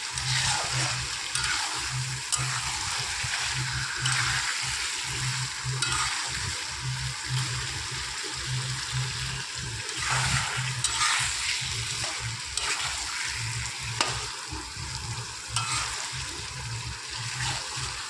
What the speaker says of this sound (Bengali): ভালোভাবে কষাবো